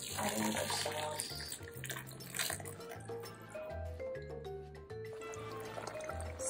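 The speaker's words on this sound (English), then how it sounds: "I'm going to add just half a cup of water to this." Half a cup of water poured into a pan while making Jalisco-style carne con chile, a steady splashing, trickling stream with dripping, close and fairly quiet, with no talk over it.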